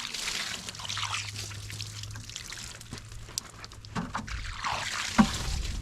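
Water is poured over an oak log on a sawmill, splashing and trickling unevenly with shifting intensity and a soft hiss, ending in a sharp knock.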